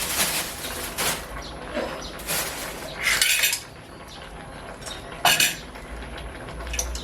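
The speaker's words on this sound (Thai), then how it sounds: "คนสักหน่อยครับไม่ใส่น้ำเยอะ" Seafood egg curry stirred in a pot, with repeated metallic scrapes and clinks of a spoon against the pot coming in uneven bursts, close up and with no talking.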